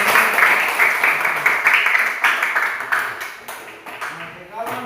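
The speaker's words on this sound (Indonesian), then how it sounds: "Tepuk tangan dulu semangat." Classroom applause from students, brisk clapping sustained for several seconds in a slightly uneven rhythm, fairly close, with a voice faintly mixed in.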